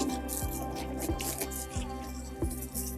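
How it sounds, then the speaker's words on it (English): Water sprays down over a fertilizer spreader during cleaning, a continuous hissing wash with steady humming tones underneath and repeated wet splashes or drips every second or so. "we're going to spray the whole unit down with a bit of water"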